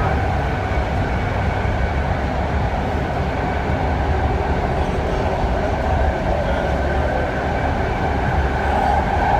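A new eight-car Fleet of the Future BART train on the SF/Daly line heading toward downtown Embarcadero, a steady, loud rolling rumble with a constant hum and hiss from inside the car and no voices.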